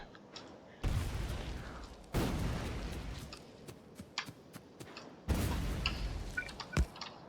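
Grenades go off in the video game Factorio as three sharp booms, each trailing into a rumbling decay, spread over several seconds and mixed with small clicks and pops, with no talking.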